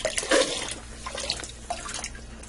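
Water pours into a soup pot already holding chicken broth for Italian wedding soup. A short splashing gush comes close up and fades into light trickling and drips.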